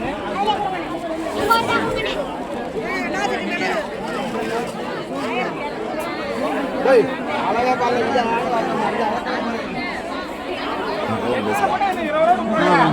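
A dense crowd chatters without a break at a busy grocery market crowded with shoppers buying spices such as mustard seed and fenugreek. Many voices overlap close by in a loud, steady babble.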